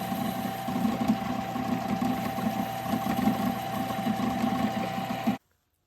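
A small lathe takes a final boring pass on a sway bar bushing for a NASCAR Craftsman Truck build, giving a steady close-up mechanical whir with a low rhythmic pulsing that runs evenly for about five seconds before stopping abruptly.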